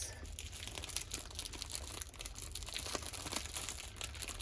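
Plastic packaging around a four-pack of canvases from an unboxing crinkles and rustles continuously up close after being snipped at the corner. The sound stays soft and fairly steady throughout.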